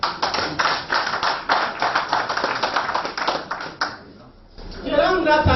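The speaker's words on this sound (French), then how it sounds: "Nous applaudissons." Audience applause at a testimonial gathering, rhythmic rounds of clapping that pulse steadily for several seconds, fade briefly, then return with a murmur of voices.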